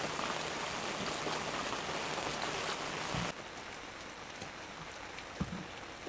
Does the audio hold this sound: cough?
no